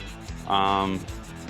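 A piece of 320-grit sandpaper is rubbed by hand over a carbon mountain bike frame, giving a brief, soft scrubbing stroke that swells and fades in a quiet space.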